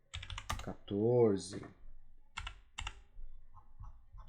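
Keys on a computer keyboard are struck as a font size is set, giving a few sharp, scattered clicks between stretches of close Portuguese speech.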